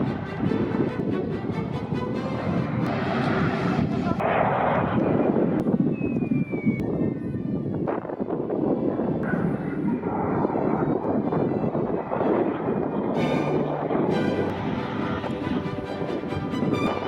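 A fixed-wing airliner, an Airbus A320, passes overhead during plane spotting, giving a steady, loud broadband roar that holds for the whole stretch, mixed with wind buffeting on the microphone.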